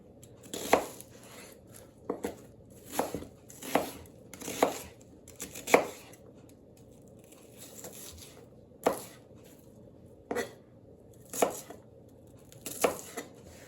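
A knife chops an onion on a cutting board in a dozen or so crisp, separate knocks spaced unevenly over several seconds, close and clear, with no voices.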